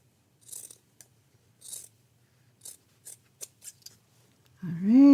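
Scissors snip through a long strip of quilt fabric in a series of crisp, close cuts at uneven intervals, followed at the end by a brief tonal rising sound.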